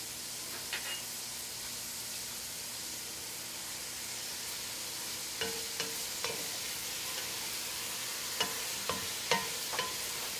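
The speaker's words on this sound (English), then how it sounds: "We're going to give this a good stir, and we'll let this saute for about 5 to 7 minutes." Garlic sautéing in a pan for a shrimp and grits sauce gives a soft, steady hiss with occasional sharp scrapes and clicks of stirring toward the end, quiet and alone without talk.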